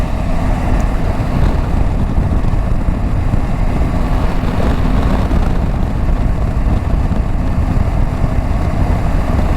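Suzuki V-Strom 650 motorcycle riding on the road, a steady loud engine drone mixed with constant wind rush throughout, with no pauses or changes.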